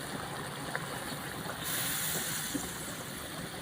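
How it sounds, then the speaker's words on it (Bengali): A little broth poured into dried loitta fish curry with new potatoes: a continuous close watery pour that grows louder and brighter midway before easing off. "এখন আমি অল্প পরিমাণ ঝোল দিয়ে দিব"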